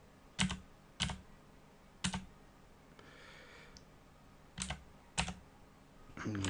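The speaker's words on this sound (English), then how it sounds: "I can nudge it with the right and left keys." Arrow keys on a computer keyboard are tapped six times at uneven intervals, with crisp, close plastic clicks and quiet pauses between them, over faint room hiss.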